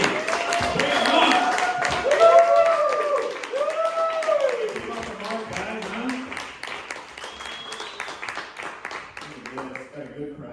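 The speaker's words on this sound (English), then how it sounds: "So for the love of God, clap for him." A comedy club audience at The Drop in South Bend applauds a comedian, with steady clapping running beneath a voice that carries over it throughout.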